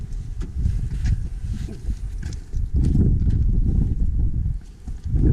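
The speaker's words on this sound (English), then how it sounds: "It's a bit windy." Gusty wind at Wheal Prosper Mine buffets the microphone with low, rumbling roars that swell and ease, broken by faint knocks and clatters.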